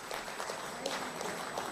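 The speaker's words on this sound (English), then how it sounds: "I would like to first call for a huge round of applause for our" An audience at a three-day national workshop gives a speaker a round of applause, heard as soft, fairly distant, continuous clapping from a crowd.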